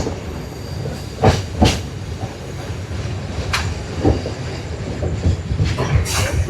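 Passenger train running from Jaffna toward Kataragama at early dawn, a steady low rumble of rolling carriages with a few sharp clacks and rattles standing out from the continuous noise, heard from on board.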